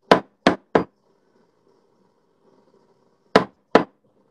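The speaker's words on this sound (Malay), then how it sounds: "ketuk-ketuk sikit bagi dia punya pecah bubble" Milk pitcher tapped on a counter to pop bubbles before pouring latte art: three sharp knocks in quick succession, a pause, then two more, close and crisp with near silence between.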